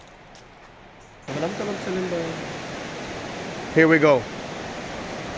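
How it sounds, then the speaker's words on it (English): Steady, dense roar of waterfalls at the Dan nature reserve in Israel rises after about a second of near quiet and continues loudly, with someone speaking briefly over it. "I want you to listen to this roar of your waterfalls."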